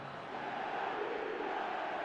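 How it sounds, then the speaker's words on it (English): Stadium crowd in the eFootball video game roars in a steady, dense wash of chanting and calling, sustained and fairly loud throughout without any break. "The crowd are calling for this to be put to bed"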